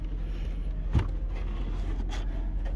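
Automatic electric power trunk on a 2008 Mercedes-Benz S550 giving a short mechanical thunk and motor whir near the start, then a steady low hum with a faint later click.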